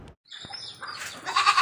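Goats and young kids bleating at a goat farm, a short close bleat building toward the end over faint farmyard background, with no talking.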